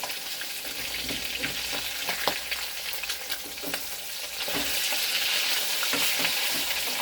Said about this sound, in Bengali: এরকম কড়া করে একটু লাল লাল করে ভাজবো।